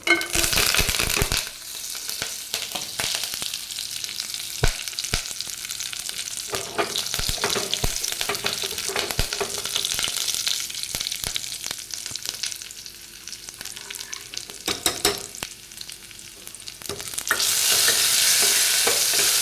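Crushed garlic, dried red chillies and curry leaves frying in a pan while being stirred, a loud continuous crackling sizzle broken by frequent scraping and clattering of the spoon, growing brighter and hissier toward the end, with no voices.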